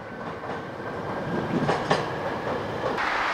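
An Izu Kyuko train pulls out of a small station on the Higashi-Izu coast at dusk, a steady rumble and wheel clatter rolling on for several seconds at moderate loudness, with no voices over it.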